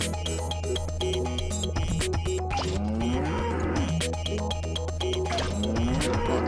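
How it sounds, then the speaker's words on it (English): Dairy cows moo repeatedly in the video game Katamari. The low, drawn-out calls come loud and close, overlapping one another above a busy, steady game soundtrack. "there's a bunch of dairy cows"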